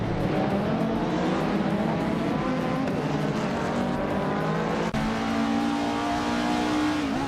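Race cars start a video game race at Donington Park Vintage Track, a pack including a 1996 Vauxhall Vectra, with layered engines revving and climbing in pitch together, loud and continuous, with a shift change midway.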